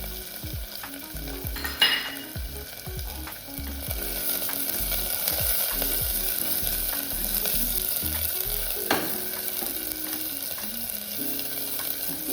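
Two small onions and three green chillies sizzle steadily in a hot pan for a dish of sambar, with a few louder stirring scrapes near the start; no one speaks.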